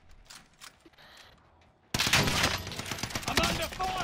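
A video game shooter match: faint distant shots give way to a sudden burst of loud, rapid gunfire that continues as sustained crackling volleys.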